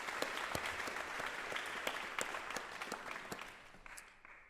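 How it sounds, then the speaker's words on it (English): An audience in a concert hall claps steadily in dense, close applause that gradually thins and fades toward the end, with no voices over it. "We're going to have a round of applause for all of you for joining us."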